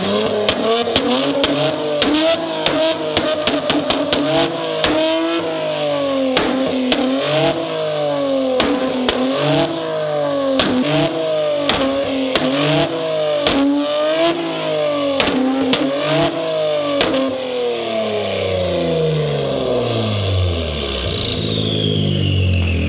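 A new Nissan Z with a flame tune revving hard again and again, its exhaust bursting in loud rapid pops and crackles between the rising and falling engine sweeps, close and intense, before it winds down to a fading tail.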